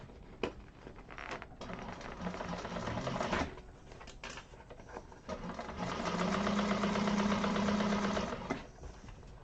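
A sewing machine stitching a second row on a handbag, running in bursts of rapid mechanical whirring with short pauses and a steadier stretch near the end, close and moderate in level, no talking.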